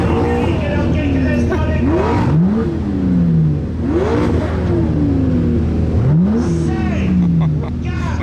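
Several car engines rev hard at the start of an event, rising and falling whoops and sweeping blips overlapping against a constant loud rumble, with people talking nearby.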